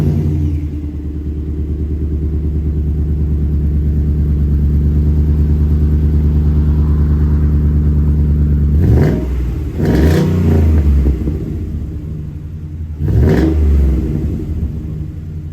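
A Ford F-150 fitted with a new, inexpensive muffler idles with a deep, steady exhaust drone, then gets revved in three sharp throttle blips near the end, each swelling louder before settling back.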